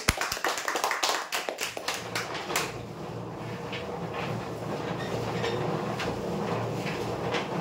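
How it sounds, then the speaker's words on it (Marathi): A crowd claps for a prize winner at a weekly customer lucky draw, with a brisk burst of hand claps at the start that fades into a dense, steady rumble. "जोरदार टाळ्या देण्यासाठी."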